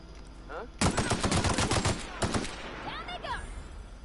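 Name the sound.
gunfire in The Outer Worlds video game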